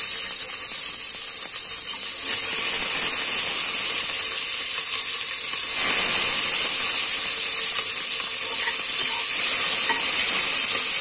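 Onions frying in a pan for a lentil rice dish give a steady, close hiss and sizzle throughout, with faint stirring scrapes and no talking.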